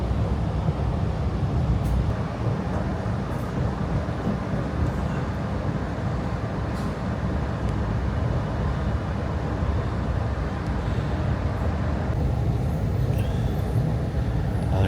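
An Acela electric train running between New York and Philadelphia, heard from inside as a steady, low, rumbling roar with rail and wind noise, continuous and fairly loud throughout.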